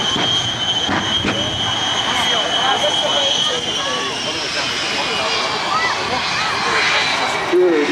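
Shockwave jet truck running up its jet engines on display at the Rhode Island airshow, a loud continuous roar and whine holding steady throughout with a faint rising tone, crowd voices underneath.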